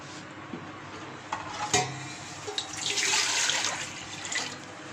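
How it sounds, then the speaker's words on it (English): Water pours into a pan with a rushing splash, preceded by a few clinks of metal cookware. "Now I put the water into the pan."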